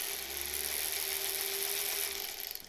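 A sewing machine motor pressed hard against the hand wheel gives a steady mechanical whir with a constant tonal hum, close and continuous, winding down and rattling to a stop at the end.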